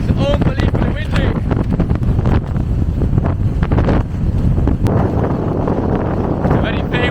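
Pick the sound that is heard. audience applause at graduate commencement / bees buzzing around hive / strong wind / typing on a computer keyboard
strong wind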